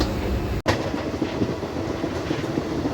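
A Jalandhar–Ambala DMU train pulls away from Mandi Gobindgarh station, its wheels rumbling and clattering steadily and close, with one brief dropout near the start and no voices.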